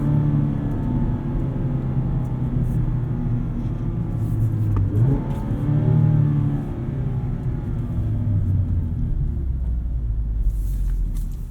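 A 2019 Mazda MX-5 Miata RF Grand Touring accelerates hard from a standstill to 60 mph, heard from inside the cabin as a loud, rising engine drone that climbs through several gears with brief dips at each shift.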